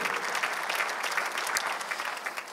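Church congregation applauding together during a sermon, a dense, steady wash of many hands clapping at a constant level with no voices over it.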